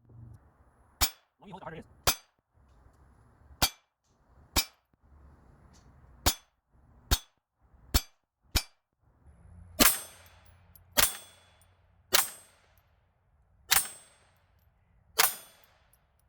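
Gunshots ring out one at a time at a range, each fired at a target 10 yards away, about a dozen sharp, loud cracks spaced a second or two apart, with a few words spoken early on.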